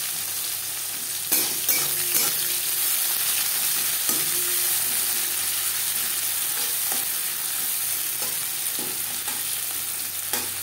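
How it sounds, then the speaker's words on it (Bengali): Chopped onions fry with whole cumin in mustard oil, a loud, continuous close sizzle broken by occasional stirring scrapes and knocks against the pan, with no one talking. "তিন 4 মিনিট পেঁয়াজ ভেজে নেওয়ার পর"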